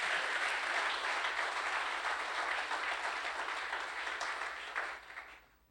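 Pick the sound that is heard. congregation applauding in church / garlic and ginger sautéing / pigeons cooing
congregation applauding in church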